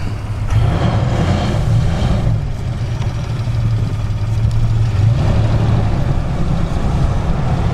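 A 4x4 engine revving hard in deep snow in a field, wheels spinning, with a loud, sustained low drone that rises and falls in pitch as the throttle is worked.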